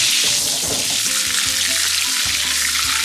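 Flank steak sizzling and frying in butter in a hot pan, a steady close crackle with faint clinks and stirring underneath, no talk.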